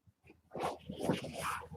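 A dog wearing a cone arriving indoors, with snuffling, whimpering and bustling movement noises building to a steady close commotion.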